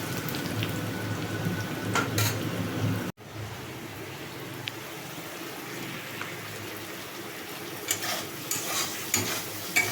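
Spice paste for potol chingri frying in a pan, a continuous close crackling sizzle with a few scraping stirs and one brief dropout partway through, no voices.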